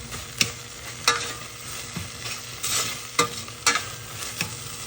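Hot pepper mashed with saltfish in a pot, heard as periodic sharp scraping and knocking strokes of a utensil against the pot over a faint hiss, close and fairly quiet.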